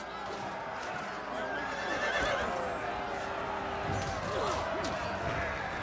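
A horse whinnies loudly in a Total War: Attila battle, a rising and falling neigh over a din of clashing combat, hoof thuds and impacts, with someone talking over it.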